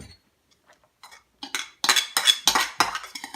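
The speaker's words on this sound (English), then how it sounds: "So we will combine shredded cabbage, thinly sliced onion, grated carrot." Shredded cabbage, thinly sliced onion and grated carrot being tossed together in a bowl, a quiet start giving way to several loud, clattering bursts of scraping and rustling near at hand.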